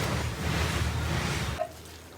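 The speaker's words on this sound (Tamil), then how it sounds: "நான் ஒரு கடாயில் கடாய் சூடானதும் எண்ணெய் ஆட் பண்ணிக்கிறேன்" Oil pours steadily into a hot kadai for a goat head semi-gravy curry, giving a close, continuous hissing wash that cuts off abruptly with a small splash before near silence.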